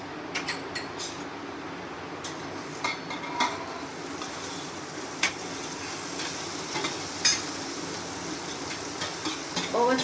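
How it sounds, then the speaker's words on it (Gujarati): Khoya (mava) roasting in two to three spoons of ghee gives a steady soft sizzle, broken by scattered scraping clicks of a spoon stirring against the pan. "આ માવાને આપણે થોડુંક ઘી નાખી અને શેકીશું"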